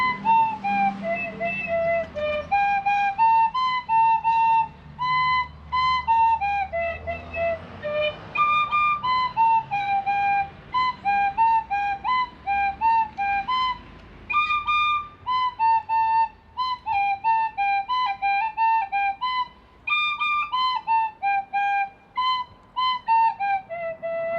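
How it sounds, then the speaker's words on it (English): Solo tin whistle plays the lively Irish tune Rattling Bog at a Kerry bardic festival, bright and close, with brisk repeating phrases and short breath gaps throughout and no talking. "I like to play a tune on my tin whistle, it's called Rattling Bog"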